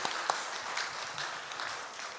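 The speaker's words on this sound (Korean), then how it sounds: "우리 박수로 격려합시다" A church congregation gives soft, sustained applause during a Sunday afternoon service, heard faintly and from a distance as a steady wash of clapping.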